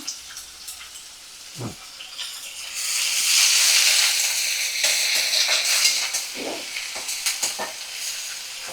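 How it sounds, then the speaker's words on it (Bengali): Chopped onions and green chillies fry in a pan, their sizzle swelling from quiet to a loud, steady hiss, with occasional clinks and stirring scrapes. "একটু পেঁয়াজ কুচি করে রেখে দিয়ে, 3টে পেঁয়াজ, কাঁচা লঙ্কা কুচি তো দিয়ে দিলাম"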